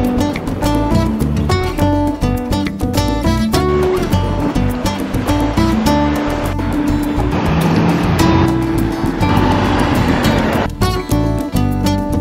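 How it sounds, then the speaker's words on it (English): Cars pass along a narrow road beside a beach in Albania, a continuous loud rush of engines and tyres mixed with surf and wind, close by and steady throughout. "Cars going by here."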